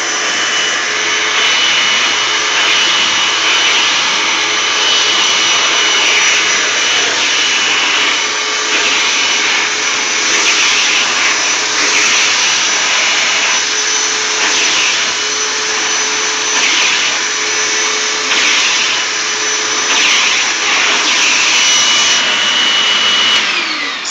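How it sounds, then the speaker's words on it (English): A Hoover WindTunnel self-propelled vacuum cleaner works a rug with a brushless attachment, giving a loud, steady, high-pitched motor roar with a scrubbing undertone that runs continuously and close up, with no talking. "So this is not the easiest vacuum or the easiest rug to vacuum with this tool."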